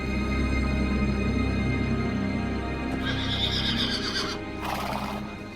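A panicked stallion in a dramatized historical scene neighs loudly, with the clatter of hooves, over a dense background. Two sharp, bright whinnies burst out near the end.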